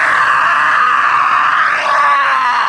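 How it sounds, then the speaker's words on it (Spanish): A loud, sustained, exaggerated scream from an anime film scene, one long strained cry holding strong and close for the whole moment without pause. "Pero punto menos por este grito exagerado."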